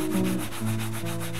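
A surface being rubbed with Syrian black polish, giving a close, loud rasping scrub of a few quick back-and-forth strokes in a brief burst, with no voices.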